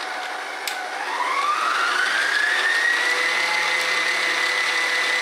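An electric mixer whirs steadily at medium speed, beating egg whites for meringue in a kitchen. The motor rises in pitch at the start, then holds a constant, close drone without talking.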